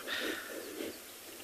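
A bird calls faintly in the distance at sunset on a safari, a soft, thin call set against a quiet, airy evening background.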